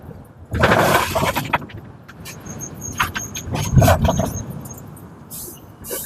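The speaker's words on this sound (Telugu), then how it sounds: "చూసారు కదా లారీలు అయితే ఎంత స్లో ఎక్కుతా ఉన్నాయో" Loaded lorries crawling slowly up a ghat road, with a rumbling engine and traffic noise swelling and fading, marked by intermittent sharp squeals and clatters.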